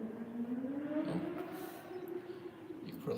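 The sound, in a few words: car driving past in the background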